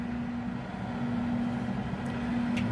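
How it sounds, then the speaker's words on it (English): Cooling fan running inside a Monport 40W CO2 laser cutter, a steady low hum with a constant tone and even airy whoosh, moderately quiet and continuous, no talking. "You can hear the fan running in the background."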